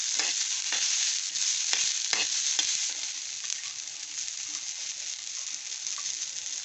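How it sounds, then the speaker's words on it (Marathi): Dried, lightly roasted coconut frying and being stirred in hot oil for a chicken rassa, a steady close sizzle with occasional sharp crackles and spoon scrapes, slowly easing in intensity. "सुकं खोबरं थोडं भाजलेलं आहे, ते पण तेलात असं छान परतून घ्यायचं।"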